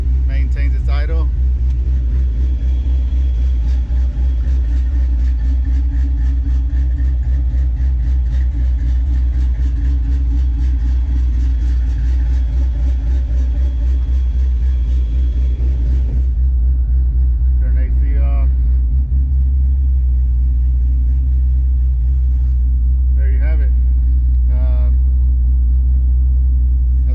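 A 1993 Ford Mustang foxbody GT V8 tuned with a MicroSquirt controller idles with a loud, steady low rumble close by, holding even as the air conditioning kicks on, with brief voices speaking over it later.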